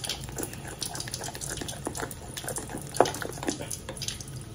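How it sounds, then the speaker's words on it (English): Cold tap water running into thick pancake batter, a continuous close splashing, trickling stream with a brief louder splash partway through. "still gotta pour more cold, cold water on this because this, this, this is a little too thick"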